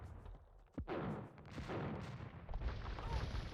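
Bombard cannons fire in the real-time strategy game Age of Empires II: a sharp blast, then dense, rumbling battle noise of overlapping shots and impacts that stays loud to the end.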